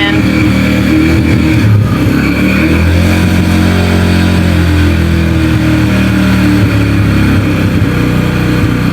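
Yamaha engine running with the choke in after a repair, a loud steady mechanical drone that holds throughout, with some variation in pitch and no clear pauses.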